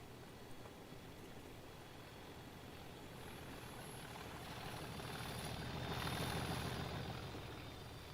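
Locomotive engine at full throttle in Train Sim World, a steady low droning rumble that swells gradually louder toward the middle and then eases slightly, with no talk.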